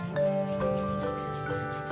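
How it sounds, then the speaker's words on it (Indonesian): Scrubbing limescale off a bathroom toilet with a cleaning product, a steady close rubbing and scouring that rises and falls in repeated strokes, with no talking. "Ini kita gosok semua dulu ya, kita gosok merata."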